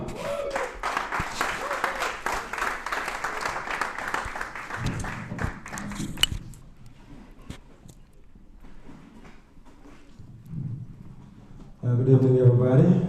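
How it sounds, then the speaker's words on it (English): An audience bursts into applause for honourees, about six seconds of close, dense clapping that cuts off into quieter room noise with scattered movement and voices, before louder sound returns at the end. "Please give it a round of applause to Amy, Paul Makese,"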